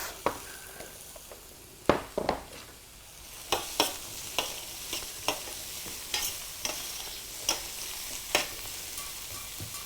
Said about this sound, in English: We're just going to let that cook through for about a minute. Check on our onion masala. It's cooking away nicely.